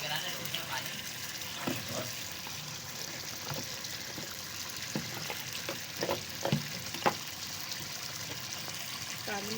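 Karahi masala frying in a pan as black pepper goes in, a steady soft sizzle with scattered stirring clicks and scrapes, close and moderately quiet.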